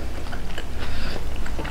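Close biting and chewing of soy garlic Korean-style fried chicken wings from a Hawaiian wing food truck, soft repeated crunches over a steady low rumble of outdoor background noise.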